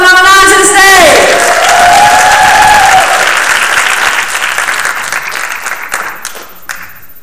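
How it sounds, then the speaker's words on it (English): A youth poetry slam crowd in Jacksonville claps and cheers for contestant number nine, dense applause holding for several seconds before tapering into scattered claps, with a voice briefly over the start. "Y'all clap up number 9 to the stage."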